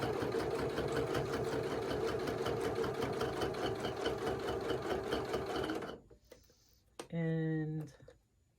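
Sewing machine stitching a fabric ornament, a fast steady mechanical whirr and ticking for about six seconds, then stopping, followed by a short muffled voice and faint handling sounds.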